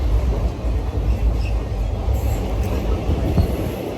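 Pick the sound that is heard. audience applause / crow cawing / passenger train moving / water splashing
passenger train moving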